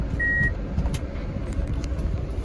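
A 2006 Mitsubishi box truck with a lift gate idles nearby, a steady low engine rumble with a brief high electronic beep near the start.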